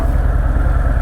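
A 2023 Anniversary Edition Harley-Davidson Fat Boy 114 cruiser idling, a deep steady low-pitched engine rumble with an even pulsing throb, close and loud for a brief moment.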